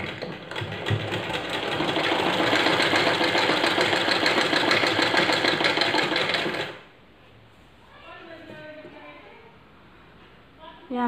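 A sewing machine stitches along a folded elastic casing on baby bloomers, running in a steady, close mechanical whir for several seconds before stopping, after which faint handling sounds follow.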